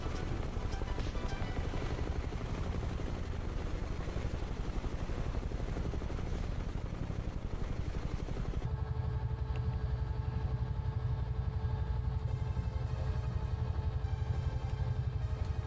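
A Bell UH-1 Huey helicopter in Microsoft Flight Simulator 2020 flies with a continuous, fairly quiet rotor thump and engine drone. The tone shifts partway through as the high end drops away.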